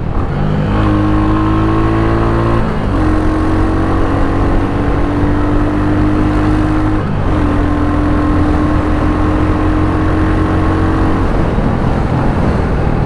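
Steady, loud engine drone of a Royal Enfield Hunter 350 motorcycle while riding, holding a sustained pitch with a couple of gear-like steps and constant wind rush, no voices over it.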